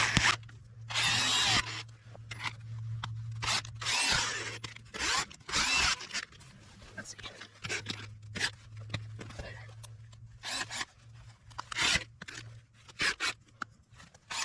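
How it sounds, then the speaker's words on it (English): A power drill whirs in several short, loud bursts of varying length, with pauses between and some quiet talk. "Get my drill."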